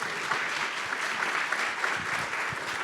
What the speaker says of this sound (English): Everyone should give her a round of applause